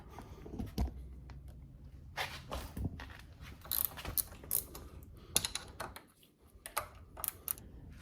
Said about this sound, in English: I'm going to loosen off the lower clamp pinch bolts